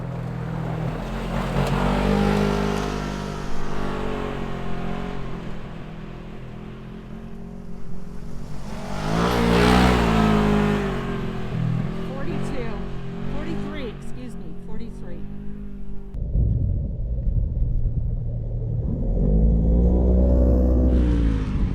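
Car speeding up on a dusty dirt road at about 35 miles per hour, a low steady engine rumble that rises and swells, with people talking over it throughout.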